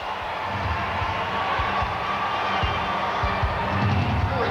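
Home crowd roars for the Georgia Gym Dogs at the NCAA gymnastics championships, a steady, loud arena din of cheering with scattered thumps and shouts throughout.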